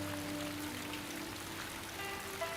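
Heavy rain pours down in a steady, dense hiss, a continuous wash of drops on surfaces with no breaks, moderately loud and alone without any voices.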